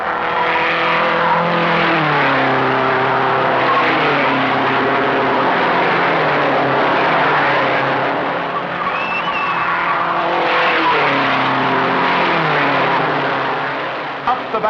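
Race cars at the 1956 Indy 500 howl through a turn nearly wheel to wheel, loud overlapping engine notes sweeping up and down in pitch as several cars pass close by, with a brief tire squeal midway.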